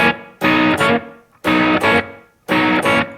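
An electric guitar plays a blues shuffle lick with a hammer-on, distorted and reverb-washed, in three repeated phrases of two quick strums each, separated by short pauses, alone with no talking.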